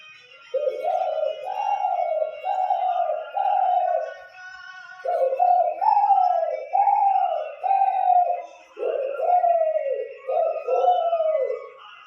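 A person imitates doves cooing, repeating soft, hollow, rhythmic coos in three phrased groups with short pauses between, close and clear.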